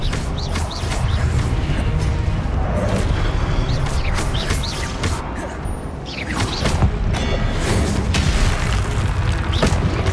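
Hogwarts Legacy spell combat brings repeated booming Confringo blasts and crashes over a dense, loud battle din, with sharp impacts scattered throughout.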